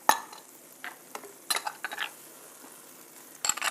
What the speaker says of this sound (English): We're just sauteing this up here, making sure our veggies are coated with the turmeric and olive oil mixture